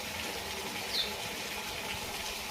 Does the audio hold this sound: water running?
yes